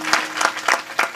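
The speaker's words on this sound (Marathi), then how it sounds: "मग तुमच्याकरता मी टाळ्या वाजवतो" A kirtan performer claps his hands four times at a steady, unhurried pace, each sharp clap close and distinct with a short gap between, and no voices alongside.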